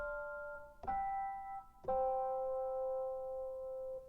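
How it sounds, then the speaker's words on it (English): Three sustained chords forming a jazz 2-5-1 progression with higher voicings on an Ableton Push 2, bright and clean, struck one after another with the final chord ringing out alone. "And it does sound beautiful if we add some higher voicings like."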